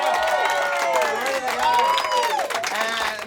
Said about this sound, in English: Give yourself another clap, audience.